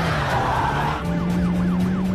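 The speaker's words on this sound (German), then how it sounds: "Auf der Flucht vor der Polizei bin ich mit dem Auto verunglückt." Tires screech as a car skids while fleeing police, with a wavering police siren rising and falling behind the squeal. A crash impact is not clearly evident.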